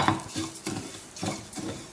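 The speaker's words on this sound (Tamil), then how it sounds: "இதே நெய்யில் நம்ம கோதுமை ரவையை வறுத்துக்கலாம்." A spoon scrapes around a pan as wheat rava roasts in ghee, five or six rhythmic stirring strokes with soft gritty rasps, close up and without talk.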